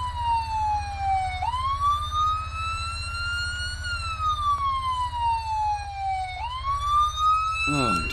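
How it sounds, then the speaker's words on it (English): A loud electronic police siren from the VR game Police Enforcement VR 1-K-27 simulator wails in long rising and falling sweeps over a steady low engine rumble, with no talking. "let's just cut the siren"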